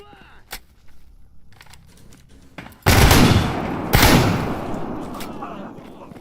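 A gun in Stalker GAMMA goes off in a couple of loud, close blasts after a quieter stretch of small clicks, each shot ringing out and decaying slowly.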